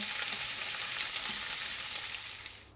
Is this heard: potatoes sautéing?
yes